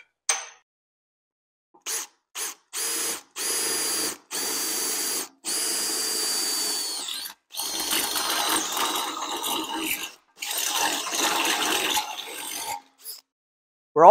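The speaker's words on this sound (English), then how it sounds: "I'm just going to hit those with the step bit, open them right up" A step drill bit bores into a diesel fuel tank in a series of short bursts, several brief whirring runs followed by longer grinding drills with pauses between, close and fairly loud.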